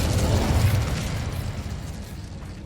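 An Incendio fire spell in Hogwarts Legacy bursts as a broad, rumbling explosion, loudest at the start and slowly fading over a few seconds with no speech.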